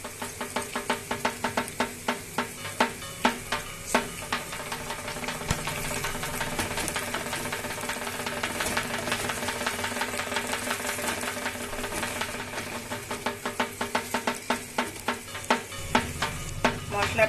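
Cashew and almond paste sautéing with sugar and salt in a pan for a Bengali vegetarian festive dish, a steady close sizzle with repeated stirring scrapes and clicks throughout, no talking.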